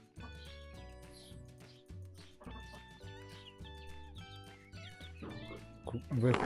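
Soft, high peeping from a group of newly hatched Barbezieux chicks, scattered and continuous, with background sounds and some clucking mixed in.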